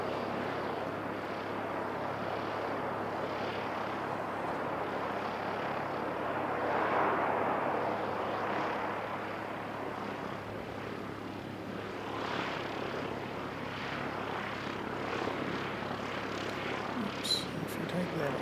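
ATR turboprop aircraft arriving, a steady broad engine and propeller roar that swells and fades over the whole span, with someone talking over it.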